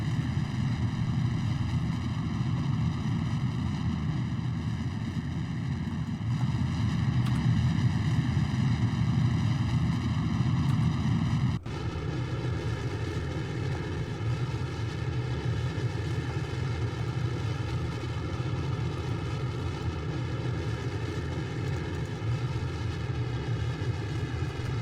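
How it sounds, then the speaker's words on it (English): Twin KS-25 rocket engines in Kerbal Space Program roar steadily and loudly, then abruptly shift to a lower, smoother drone about halfway through as they throttle down, holding that reduced tone to the end. "Beginning initial throttle down on the twin KS-25s"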